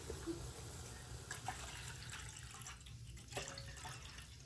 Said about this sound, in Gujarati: હવે દૂધ નાખી દેવી